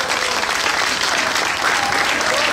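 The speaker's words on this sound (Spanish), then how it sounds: "Un fuerte aplauso, que se escuche ese aplauso." A congregation applauds in a church in Melaque, Jalisco, Mexico, just after a prayer: loud, dense, continuous clapping from many hands filling the space.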